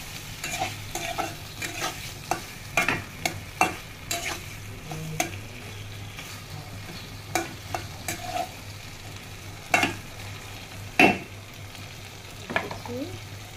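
Repeated scraping of a spoon stirring small batashi fish with spices and flat beans in a hot pan, with irregular clinks and knocks over a steady sizzle; no voices.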